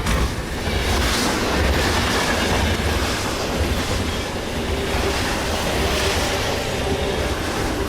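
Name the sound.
tanker train speeding without driver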